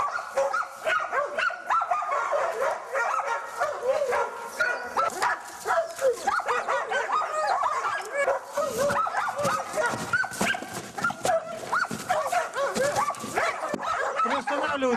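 Hunting dogs used for sable hunting bark and yip excitedly in a continuous, loud, overlapping chorus at close range, with whimpers mixed in as the pack grows frantic.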